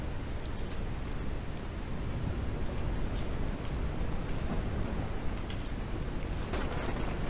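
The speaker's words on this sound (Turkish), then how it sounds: "Hava bayağı yağmurlu bu arada." Steady rain in the farming video game Ranch Simulator, a dense even hiss of falling water with faint scattered ticks throughout, with no one talking.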